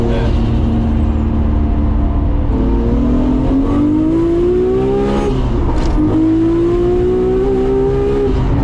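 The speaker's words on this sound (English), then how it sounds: "Little backfiring going on there." A white Nissan Skyline R34 GTR engine drones loudly and steadily from inside the car, rising in pitch as it accelerates, with a couple of sharp backfire pops near the end.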